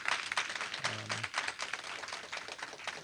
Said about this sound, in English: maybe if we could get a round of applause for our panelists here